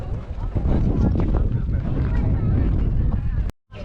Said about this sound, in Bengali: এখানে যদি ভালো করে নোটিস করো তাহলে শুনতে পাবে হাওয়াও কথা বলে।